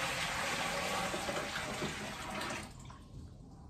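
Water pours steadily and fairly loudly into a container, about two gallons, then the flow cuts off near the end, leaving a faint trickle.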